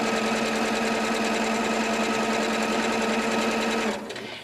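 Sewing machine running steadily while sewing a circle for a pocket, the fabric turning slowly under hand guidance: a continuous, loud, close mechanical whirr with fast rhythmic stitching that stops near the end.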